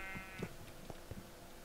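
A sheep bleats in Minecraft, a few short, quiet bleats over a faint steady background hum.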